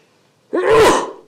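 A single sharp sneeze bursts out close by during a city commission meeting, loud and alone against the quiet room.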